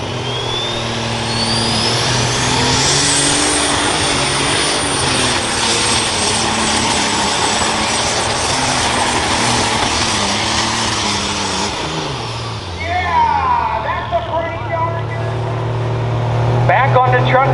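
Ron Bargy Sr.'s pulling tractor Dad's Toy, from Ansonia, Ohio, roars loudly and continuously down the track at the 2021 Hartford Fair OSTPA truck and tractor pull, its engine pitch sagging near the end while an announcer talks over it.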